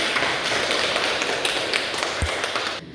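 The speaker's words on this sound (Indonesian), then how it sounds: "Kita berikan aplaus untuk Nanda Berlian." Applause in a classroom fills the space for nearly three seconds, a dense, loud patter of many hands clapping together that stops abruptly near the end.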